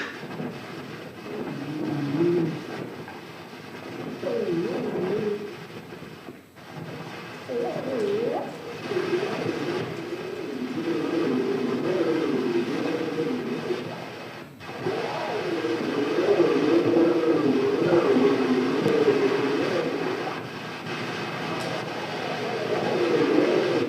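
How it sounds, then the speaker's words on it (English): A railway trestle groaning and rumbling as a train passes over it, a sustained low, shifting resonance with a couple of sharp knocks, heard close and alone. "This is the sound the trestle made as the train went by."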